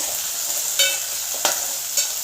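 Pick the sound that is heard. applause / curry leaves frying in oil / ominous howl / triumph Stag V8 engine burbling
curry leaves frying in oil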